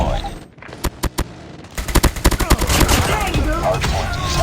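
Rapid bursts of automatic fire from a sentry gun during a Hardpoint match in Call of Duty Mobile, a few spaced shots followed by a dense rattling stream over busy game noise.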